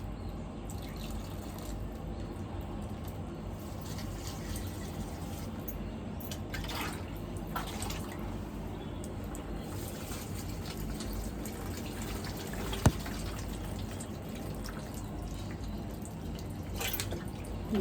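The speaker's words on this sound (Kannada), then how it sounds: "ಈ ಗಿಡಗಳಿಗೆಲ್ಲ ಸ್ವಲ್ಪ ನೀರು ಹಾಕ್ತಾಯಿದ್ದೀನಿ" Steady trickling and dripping water from watering potted plants runs throughout, with a constant low background noise and one sharp tap near the end.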